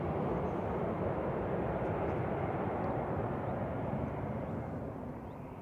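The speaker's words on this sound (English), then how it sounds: "Noisy A320 Classic, that GEZUI with flight 2129, 13-year-old aircraft heading over to Italy." A 13-year-old Airbus A320 passes overhead at Manchester Airport, a loud, steady broadband jet roar that holds constant before slowly fading toward the end.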